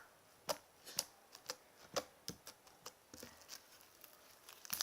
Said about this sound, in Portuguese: Esse foi o clique.